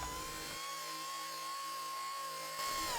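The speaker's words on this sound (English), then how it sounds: "I basically put a 120 disc on my little sanding machine, and I just started proper hitting it hard." Small sanding machine fitted with a 120-grit disc working hard on a stone-chipped car headlight, a steady high-pitched whine holding level for the full three seconds over a continuous whir.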